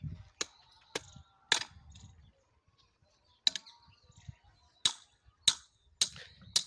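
Sharp hammer strikes ring out as a mother pounds stakes into a village vegetable garden, several separate knocks in uneven groups with short pauses, moderately close with a little ambient noise between them.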